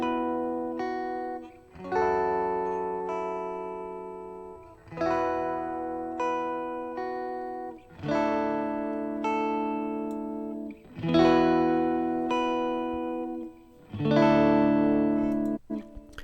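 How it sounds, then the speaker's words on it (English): Electric guitar chords played through KiloHearts plugins with phase distortion, reverb and an amp room effect, ringing out in sustained, heavily processed strums every couple of seconds over about sixteen seconds. "gives it more of an amp, more of an ampy room sound, this phase distortion, in combination with the reverbs"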